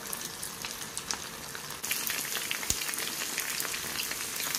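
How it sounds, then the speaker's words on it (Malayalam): Chicken pieces deep-fry in hot sunflower oil with a steady, dense crackling sizzle that grows louder partway through as more pieces go in, close and continuous with no talking. "നമുക്ക് അതിനകത്തോട്ട് ഇതിന് ഓരോ ചിക്കൻ പീസ് ഇട്ട് വറുത്തെടുക്കാം"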